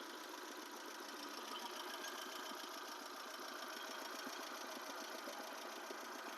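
A 2012 Hyundai Santro with a newly fitted gas kit idles in a steady, even drone with a faint rhythmic knock, heard alone with no voices.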